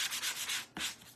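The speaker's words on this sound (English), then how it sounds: "I'm sanding these off a little bit" Sandpaper rubs rhythmically over a painted wooden surface in quick back-and-forth strokes, close and steady, with a brief pause before another firm stroke.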